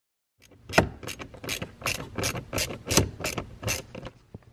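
A power driver ratchets a screw into a VW Jetta MK6 heater core assembly in a rapid series of about ten sharp, close mechanical bursts, loud and dry, with no talking.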